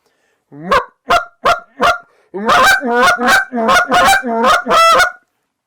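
A Hayes Big Sean Championship goose call is blown close and loud: four short separate honks, then a run of six longer, rapid honks with barely a gap between them, with no talking.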